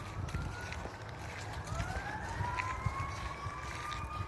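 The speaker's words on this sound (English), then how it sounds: "They've sent an ambulance, it sounds like." Ambulance siren answering a road wreck on wet East Texas roads, a faint, distant wail rising and sweeping steadily over low outdoor rumble, heard without speech.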